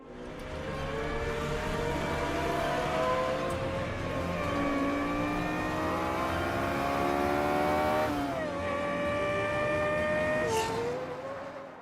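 A Lexus LFA's naturally aspirated 4.8-liter V10, which revs to 9,000 RPM, rises and falls through loud, sustained revving sweeps, with a sharp dip and climb near the end, and no voices.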